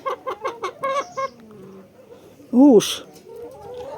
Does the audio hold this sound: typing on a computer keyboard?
no